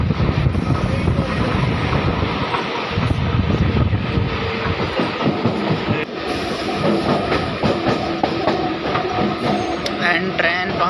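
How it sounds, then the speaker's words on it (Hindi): A fast-moving local train in Chennai, India rattles and roars continuously, with rumbling wheels, wind buffeting and clattering carriage noise up close. "ट्रेन की रफ्तार काफ़ी तेज़ है"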